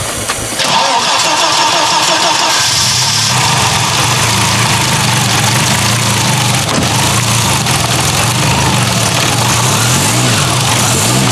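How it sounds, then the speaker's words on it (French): A tuned 864 hp car engine cranks and fires, then settles into a loud, steady idle with a slightly uneven beat, heard up close and alone. "Je te le démarre, si tu veux."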